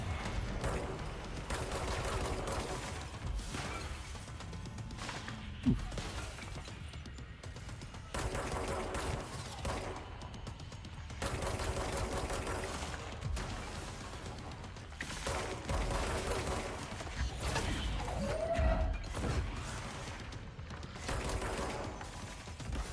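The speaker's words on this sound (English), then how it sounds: "These bullets going past me, I just don't know where they are." Gunfire in the video game Control rattles in dense, continuous bursts with mechanical clatter and bullets whizzing past, a busy, fairly quiet combat mix with no voices.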